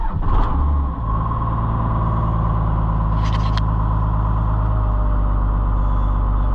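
A 1994 Dodge Ram 2500 with the 5.9 Cummins diesel runs close and loud under a held throttle, a steady heavy drone that dips briefly near the start and then stays even.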